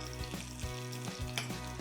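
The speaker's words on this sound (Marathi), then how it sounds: "ही जी तुपाची फोडणी आहे ना, का म्हणजे त्याचा सुवास छान दरवळतोय." Ghee tempering of garlic, curry leaves and chillies sizzling in a pan, a close, steady crackle with a few soft scrapes of stirring.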